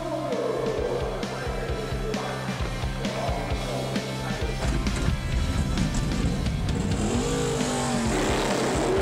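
Vintage race cars of the golden age of the automobile, Ford and Ferrari among them, race at the 2016 Le Mans Classic. Engines rev and pass one after another in a steady, fairly loud stream, with a rising whine near the end.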